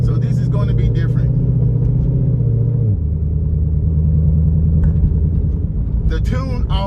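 The engine of a finished Chevrolet C6 Corvette idles with a deep, steady rumble and a slight shift in tone partway through, loud and close, while someone talks over it.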